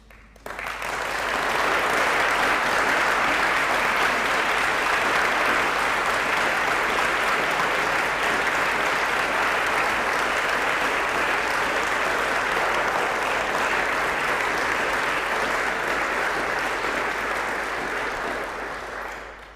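A large audience applauds steadily and loudly at Andy Burnham's live speech in Manchester, a dense wash of clapping that swells quickly and holds for nearly twenty seconds before fading slightly.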